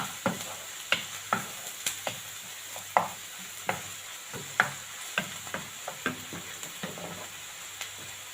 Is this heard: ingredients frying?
yes